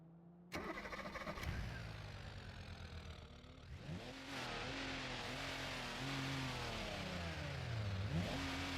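Inline-six engine of a Gavril D-Series truck in a driving game cranks and catches at about half a second, then revs and settles into a steady, loud, stable running note with small throttle swells.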